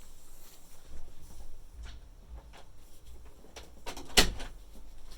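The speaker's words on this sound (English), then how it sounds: "let me also close the door" A room door swings shut with one sharp, solid thud near the end, after a few seconds of quiet shuffling and soft movement.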